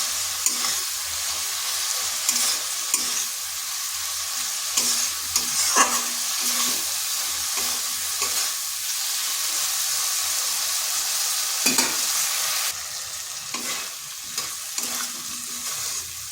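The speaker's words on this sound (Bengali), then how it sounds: "ভালো করে আলুর সাথে মশলাটা কষে নিতে হবে।" Potato pieces fry and sizzle in a wok with cumin, coriander and chilli powder, a steady oily hiss broken by scraping stirs of a spatula against the pan, close and continuous.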